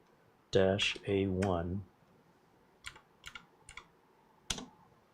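A voice speaks briefly, then a computer keyboard is typed on in short bursts of scattered clicky keystrokes, moderately close.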